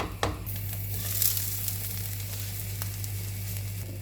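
Beaten eggs for a Sunday omelette sizzle steadily in a hot pan, a continuous close frying hiss with a low steady hum underneath and a brief clatter near the start.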